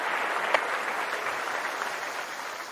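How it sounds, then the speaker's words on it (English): Audience applause closing an interview on sports vision, a soft, steady wash of clapping that holds evenly at moderate level throughout, with one sharper clap standing out near the start. "let me give you some applause on that."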